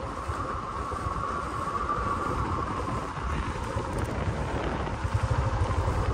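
A motorcycle rides along an extreme off-road mountain track at Taobat, its engine a steady, close rumble mixed with rough wind and road noise throughout.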